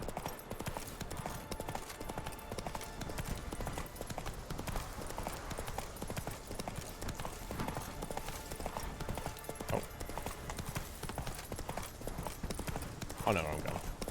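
Roach, the horse in The Witcher 3, clip-clops along in a steady galloping hoof rhythm throughout, with a voice talking over it and game ambience beneath.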